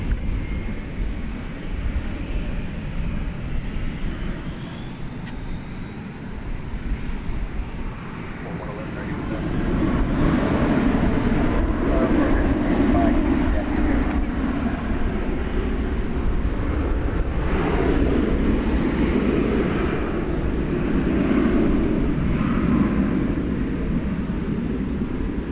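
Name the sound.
jet airliner taking off at DFW airport at night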